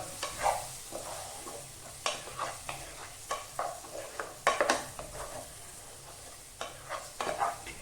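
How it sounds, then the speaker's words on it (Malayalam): Chicken masala is stirred in a hot pan: repeated scraping strokes of a spoon against the metal come in irregular bursts over a faint sizzle, close and fairly soft. "2 സ്പൂണ് ചിക്കൻ മസാല, നന്നായിട്ട് ഇളക്കുക."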